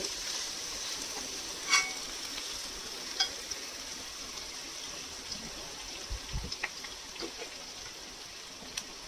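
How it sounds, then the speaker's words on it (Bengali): Chopped ingredients for chhole fry in a pan with a steady, fairly quiet sizzling hiss throughout, broken by a few soft knocks of stirring. "এইবারে পুরো ব্যাপারটাকে একটু ফ্রাই করব।"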